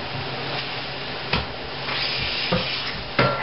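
Meat browns in a hot pan on the stovetop before going into a crock pot, sizzling with a steady, close frying hiss broken by a few louder spatters and clinks.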